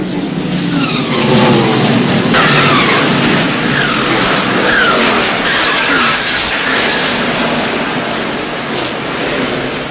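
NASCAR Cup Series race cars at speed at Darlington Raceway, loud engine roar with tire skidding and squeal as a car slams into the wall, continuous and close throughout.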